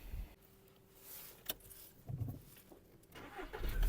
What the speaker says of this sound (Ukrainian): Автомобіль заводиться з півтику не димить, не троїть